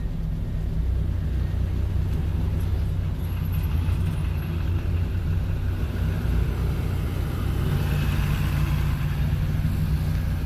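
A Fiat 600 small car's engine runs steadily on the road, a low continuous rumbling drone with a faint higher whine, close and even throughout with no speech.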